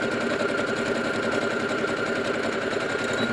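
A sewing machine runs steadily up close while stitching elastic onto a medical mask, its rapid needle chatter forming a continuous even whir with no pauses.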